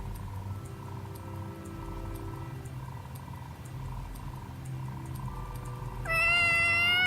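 A cat meows in the video game Tales of Xillia 2, a short call near the end over a steady game background hum with faint ticking.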